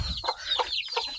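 A Japanese bantam chick gives several short, soft clucks and peeps close by, scattered irregularly over a quiet low background.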